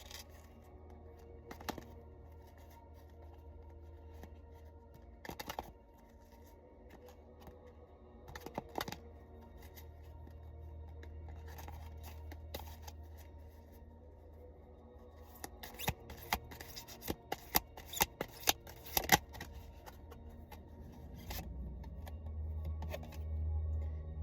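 Power Thought cards are shuffled by hand, producing scattered dry riffling and snapping bursts over a low steady hum, sparse at first and then denser in a quick cluster of crisp flicks.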